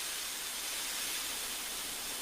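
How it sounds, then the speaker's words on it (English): Henry the steam engine puffs out a cloud of steam, a steady, faint, continuous hiss that holds evenly throughout with no other sounds. "When Henry thinks, he puffs out a cloud of steam"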